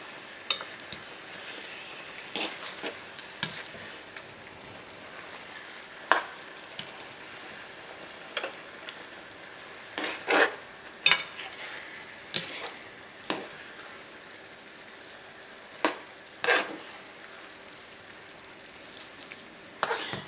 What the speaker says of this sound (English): toss it and mix it all with the sauce and the meatballs